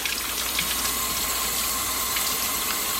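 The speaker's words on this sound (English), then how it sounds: "Let's take it over to the sink and rinse them off." Water runs steadily from a kitchen sink tap as zucchini seeds are rinsed, a constant faint splashing hiss with no talking.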